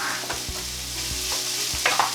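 Jackfruit pieces fry in a pan for fajitas with a steady sizzle, broken by a few scraping stirs of a spatula against the pan.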